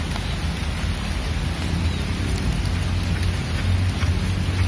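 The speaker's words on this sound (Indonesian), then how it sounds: "Udan lur." Steady rain falls outdoors at a fishing reservoir, a dense, even hiss of drops hitting water and surfaces, loud and unbroken throughout with no voices.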